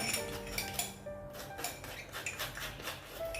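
A spoon scrapes and scoops the flesh from a ripe, hard-shelled West African avocado, giving soft clinking and scraping strokes at close range with light kitchen clatter and no speech.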